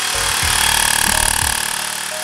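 A Mi portable electric air compressor runs with a loud, steady mechanical drone and a rapid rattling pulse, heard up close and alone for the whole stretch.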